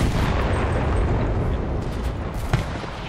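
Artillery fire in the World War II shooter game Enlisted, a sustained rumbling barrage of deep booms rolling together with one sharper blast near the end, loud and without speech.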